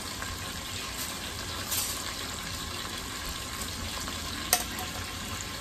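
A spoon stirs hot southern-style field peas and greens in a pot, giving a soft, continuous sizzle and wet scraping with a couple of light clinks, with no talk.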